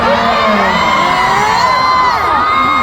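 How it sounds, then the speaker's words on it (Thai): Crowd at a sports event cheering for a player named Alex, a loud dense roar of many high shouting and whooping voices, continuous and close. "อเล็กมีคนเชียร์เป็นพิเศษแล้วก็ยิงให้ได้ด้วยนะ"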